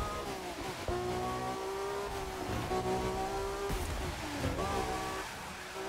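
A Ferrari FXX K in the racing game The Crew 2 drives with a steady, loud engine drone that shifts pitch as it accelerates and brakes through corners, running alone without talk.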